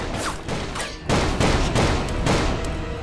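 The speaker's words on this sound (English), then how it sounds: "Wow, I shot his head off!" Gunfire rings out in the Call of Juarez PC game, a few sharp shots up front followed by a dense, loud volley of bursts filling the rest.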